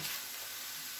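Minced meat and vegetables cooking in a pan give off an even, hissing sizzle that holds steady and close throughout, with no other sounds.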